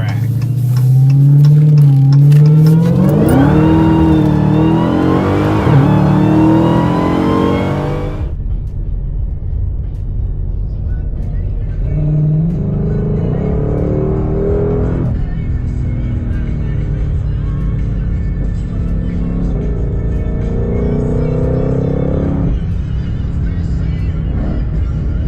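A sports car engine in track mode, likely a Dodge Challenger Redeye or Ford Mustang GT500, revs loudly and close, with rising and falling pitch sweeps, then a sudden cut and several shorter revs under a steady idle rumble.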